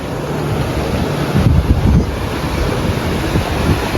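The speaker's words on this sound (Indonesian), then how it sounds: "Inilah suasana sore hari di Pantai Pangandaran" Afternoon surf at Pangandaran Beach: a steady wash of breaking waves with wind buffeting the microphone, a continuous broad roar with small surges and no talk.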